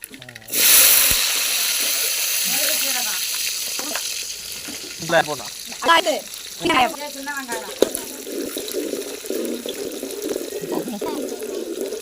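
Mustard seeds and fenugreek fry in hot oil with a bright, continuous sizzle that bursts in loudly near the start and carries on under intermittent talking.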